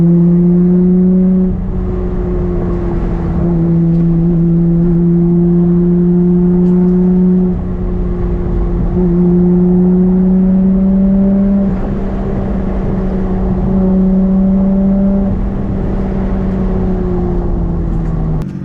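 Car exhaust revving, picked up close by a GoPro camera, a loud steady droning engine note that rises and falls in long sustained pulls with brief dips between them.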